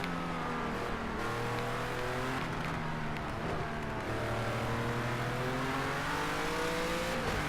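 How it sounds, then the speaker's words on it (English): A Mercedes race car in a racing video game, its engine loud and close as it revs and shifts through gears in rising and falling sweeps, with no talking. "I can just nail this Mercedes into that heavy braking zone ahead"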